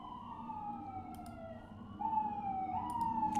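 A siren wails outside, its gliding pitch rising and falling at a distance, then growing louder and closer toward the end.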